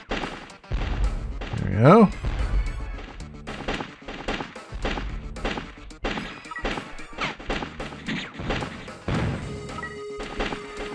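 Rapid gunfire smashes boulders in the Steel Empire shooter game: a heavy crash near the start, then repeated punchy impacts and shots in quick succession, with a brief spoken remark mixed in.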